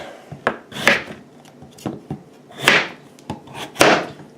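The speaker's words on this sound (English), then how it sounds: "I'm going to do is I'm just going to cut these into chunks." A kitchen knife cuts a butternut squash into chunks on a wooden board. Several crisp chops land in an uneven rhythm, each with a short scraping rasp as the blade pushes through the firm flesh.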